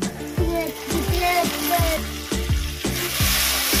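Onion paste stirred into onions fried until red, a Bengali katla fish kalia base, with steady, rhythmic scraping strokes over a continuous close sizzle.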